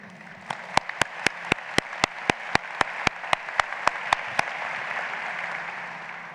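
Audience applause fills a law school convocation hall: a steady bed of many hands clapping, with a run of sharp, evenly spaced louder claps standing out for several seconds before it fades.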